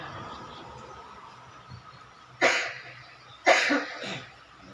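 A man coughs twice, two sharp bursts about a second apart, fairly close during a religious talk on remembrance of God, over a faint room hum.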